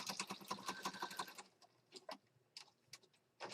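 A sewing machine stitches around the edge of a junk journal page, giving a fast, even run of close mechanical ticks for about a second and a half, then a few scattered clicks and taps as it stops.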